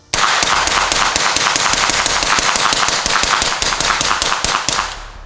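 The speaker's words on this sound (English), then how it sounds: "Let's shoot a little bit quicker." Rapid gunfire from a suppressed all-metal Mac-style firearm build: a fast, steady string of loud, sharp shots for about five seconds, then an abrupt stop, with no talking.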